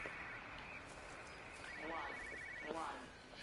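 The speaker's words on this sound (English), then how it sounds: "It's a satellite phone." A satellite phone rings inside the video game Everybody's Gone to the Rapture, giving repeated electronic trilling bursts over a steady ambient hum at moderate level.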